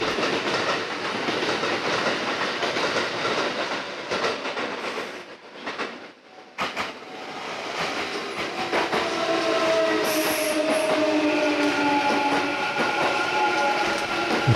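A Kintetsu train rumbles loud and steady through Tsuruhashi station, with clattering wheels, a brief dip in the noise, then squealing brake tones as it continues.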